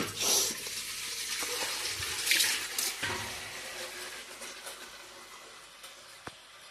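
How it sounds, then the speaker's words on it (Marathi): Water runs from a tap into a metal pot or pitcher, making a rushing, splashing pour that is loudest at first and gradually softens as the vessel fills, with a few clinks. "चला पाणी भरूया"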